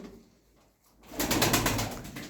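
Brief quiet murmur, then a burst of pigeon sounds with soft cooing and some rustling, fairly close.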